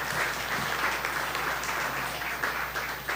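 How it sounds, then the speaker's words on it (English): A crowd at a chef competition event gives a round of applause, with thick, continuous clapping throughout and a steady low hum underneath. "a round of applause for our friends at DTCC"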